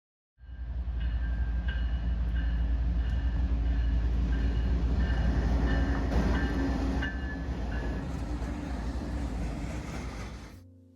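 A train rolls along neighborhood railroad tracks, a loud steady rumble of rail cars that fills the whole stretch alone, with faint high squeals above and a slight easing toward the end.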